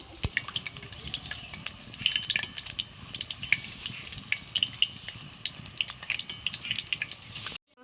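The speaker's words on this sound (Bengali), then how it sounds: "আমি এই রকম সব বেগুনিগুলো ভেজে নেবো" Eggplant fritters (beguni) frying in oil over a low flame, giving a steady crackling sizzle with scattered sharp pops and spits, fairly faint and close, with no talking.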